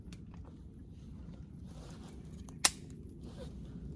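A Ward Western Field 16 gauge shotgun, made by Stevens, misfires with one sharp, short click partway through. It stands out briefly against quiet outdoor background noise, with no voices.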